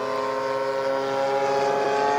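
A P-51 Passion Wagon RC model airplane engine drones steadily in flight, loud and continuous with a strong harmonic whine and no break.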